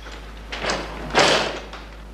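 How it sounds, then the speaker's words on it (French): A door slams shut in a French radio drama, a couple of light handle knocks followed by one solid, close bang that rings out briefly. "Il claque la porte."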